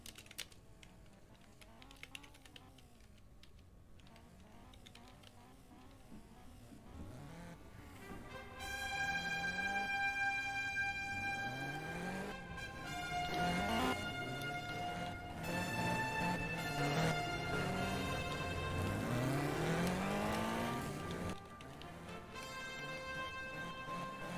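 Race cars in an F2 junior sim racing esports heat, engines droning low and then surging loud with repeated rising and falling revs as the field gets going, over steady clicking like keys or controls.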